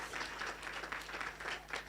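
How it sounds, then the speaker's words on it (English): Steady applause from a conference audience after welcome remarks thanks the conference director and staff, a dense even patter of many hands lasting the full two seconds at moderate distance, with no talk over it. "Please give a round of applause to Mark Donfried and all the team."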